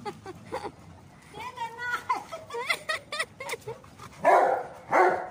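Several pet dogs romp and play-fight together, with repeated close yaps and barks scattered through the clip over excited yelps, growing into louder bursts of barking near the end as one dog pesters another named Roro.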